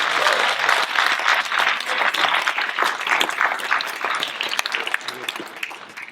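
An audience at an awards show bursts into sustained applause, dense clapping filling the space steadily before tapering slightly toward the end.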